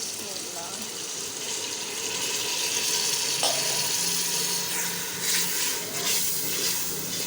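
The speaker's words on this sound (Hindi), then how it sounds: "इसमें मैं डाल देती हूँ पानी।" Water runs in a steady gushing stream into a cooking pot in a home kitchen, continuous splashing with a brief knock partway through and a faint voice in the background.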